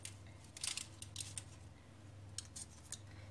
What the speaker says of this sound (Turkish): İkişer parmak kalınlığında kesiyorum.